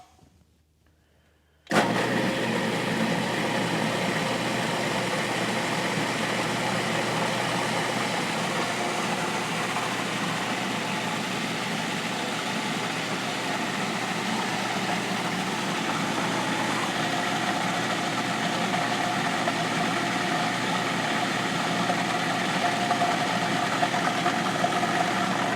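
A food processor blending red pepper hummus starts abruptly after a quiet moment, then runs as a loud, steady motor whir with a grinding texture for the rest of the time, alone with no talk.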